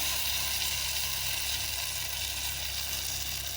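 Ground paste tipped into a pan of sautéed onions and tomatoes for kurma, sizzling and frying steadily and loudly throughout, with no voices.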